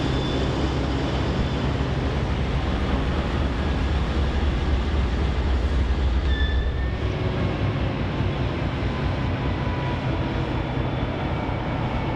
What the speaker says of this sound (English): Amtrak's latest motive power and the old guard General Electric working together to pull the train